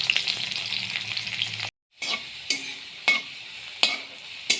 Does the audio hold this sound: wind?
no